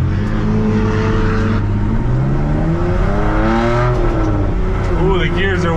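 An 1100hp ProCharged C7 Corvette accelerates around a track, its engine loud and close with a rising whine and revs climbing through short gears, while someone talks over it inside the car.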